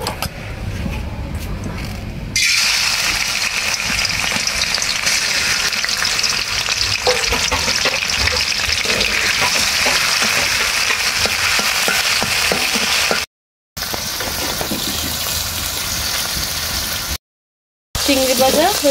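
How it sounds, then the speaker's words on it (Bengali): Shrimp coated in salt and turmeric fry loudly in white oil in a wok, a steady close sizzle that continues with brief breaks, after a quieter start. "প্রথমে চিংড়িগুলো ভেজে নেব।"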